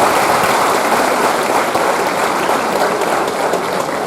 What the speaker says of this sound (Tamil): அவங்களுக்கு இன்னொரு கைத்தட்டல் கொடுக்கலாம்